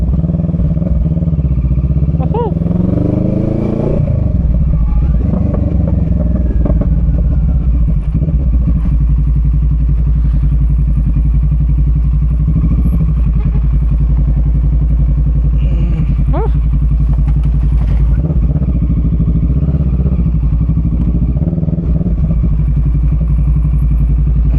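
Big motorcycles passing on a busy road, loud close engine roar with revving and a rising pass early on, over continuous traffic rumble and faint voices.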